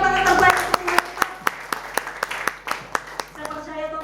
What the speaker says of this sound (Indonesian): Berikan tepuk tangan terbaik.